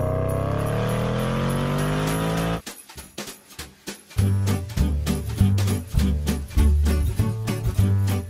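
A Land Rover accelerates with steady engine drone, then cuts out and gives way to an uneven run of thumps and rattles, with the engine pulsing close by and no talk.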